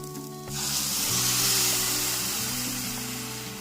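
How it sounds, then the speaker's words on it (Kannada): Vegetables in a hot pan burst into a loud sizzle as water is added, the hiss swelling sharply after a brief quiet start and then slowly easing, with a low steady hum beneath. "ನಾನೀಗ ಇಂಥ ಟೈಮಲ್ಲಿ ನೀರನ್ನು ಸೇರಿಸ್ಕೊತಾ ಇದ್ದೀನಿ"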